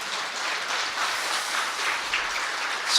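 Congregation applause during a Lent early-morning prayer service, a brief, even, continuous burst of many hands clapping at once.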